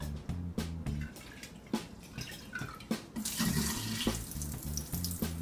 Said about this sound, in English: Seeds are new, so I'm gonna rinse them once, and then I'm gonna leave it to soak.